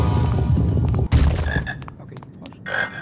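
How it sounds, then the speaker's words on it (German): Frog croaking in a Harry Potter video game, a loud low croak followed by several shorter chirpy calls against a dense game background. "Okay, ist ein Frosch."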